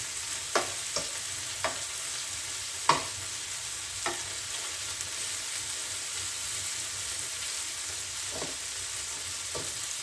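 Chicken pieces fry with a steady, even sizzle in a pan, broken by a few sharp taps and clacks as a spatula flips them, close and alone without talk.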